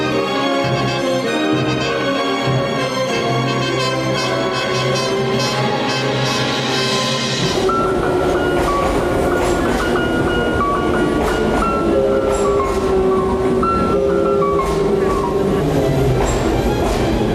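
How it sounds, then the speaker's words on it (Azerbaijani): A train rolls into a station with steady rumbling and rail clatter, continuous and fairly loud, partly blended with music playing throughout. "Qatar stansiyaya çatarkən"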